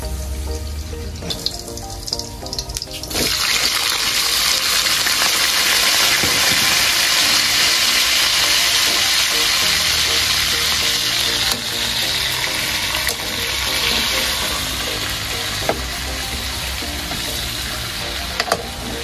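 Potatoes and garlic fry in a pan for adobong manok, a loud steady sizzle that swells after a quieter start and continues evenly, with occasional stirring scrapes.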